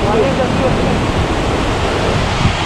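Water rushes and flows steadily over a concrete driveway at the overflowing Pocharam Dam near Hyderabad, a loud, broadband wash of water filling the whole clip without break.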